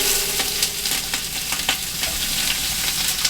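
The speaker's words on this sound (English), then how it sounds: "Let's saute them up a little bit first." Two onions sautéing in extra virgin olive oil for a healthy vegetable soup, a steady close sizzle and crackle with occasional stirring clicks throughout.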